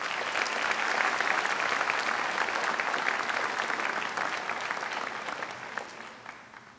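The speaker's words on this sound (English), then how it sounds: "Let's give them a nice round of applause." A graduation audience at Lakeview High School in St. Clair Shores gives a sustained round of applause in a large hall, a dense wash of clapping that holds steady and then slowly fades toward the end.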